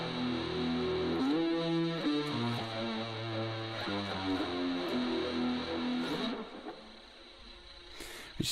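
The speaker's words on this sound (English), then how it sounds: "pretty much just distortion and flanger to me" A synth guitar riff played through distortion and flanger effects in the MixBox iOS app, a loud buzzing stepped chord pattern with a swirling sweep that cuts out near the end.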